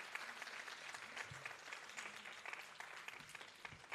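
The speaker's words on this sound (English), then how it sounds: "A big round of applause to them too." Sustained audience applause after a dance performance, a dense, even wash of many hands clapping for the full four seconds at moderate loudness, with faint voices murmuring underneath.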